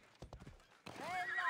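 A horse in the video game Assassin's Creed Odyssey clatters along with a few quick hoof clops, then lets out a loud, drawn-out neigh that fills the second half.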